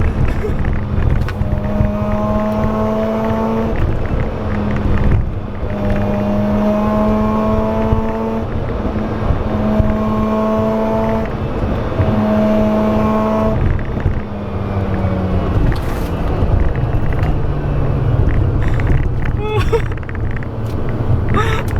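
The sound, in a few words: Mazda RX-7 rotary car driving on mountain road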